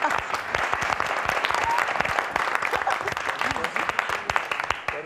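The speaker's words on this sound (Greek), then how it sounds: "Δυνατό χειροκρότημα." Loud, dense applause from a television studio audience on a Greek music show tribute to a singer, filling the whole stretch steadily with many overlapping claps and a few voices mixed in.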